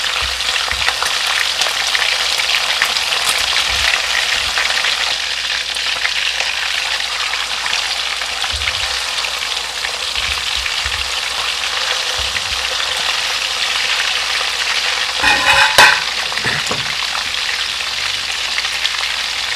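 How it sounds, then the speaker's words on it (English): Pork slices deep frying in hot oil give a steady, dense sizzle and crackle, with a brief louder bubbling burst near the end and no voices. "We are deep frying because we want to achieve a crispy texture."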